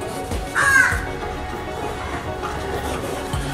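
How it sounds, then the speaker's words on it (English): Crows in Kolkata give one loud, harsh caw close by, followed by fainter calls in the background over steady outdoor ambience. "we got lots of crow who is seeing this"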